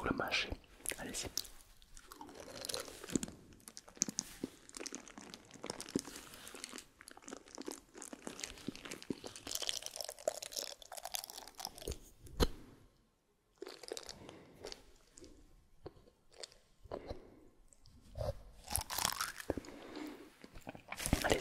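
Close, crisp chewing and crunching of something in the mouth in an intimate ASMR setting, with repeated wet bites and mastication between soft whispered speech and a brief silent pause.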